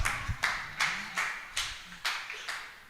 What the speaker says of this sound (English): Mnapiga makofi na sijaona.